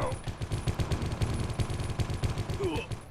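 Rapid, evenly spaced bursts of weapon fire in the shooter game Geist, loud and close, crackling over low thuds for about three seconds, with someone talking underneath.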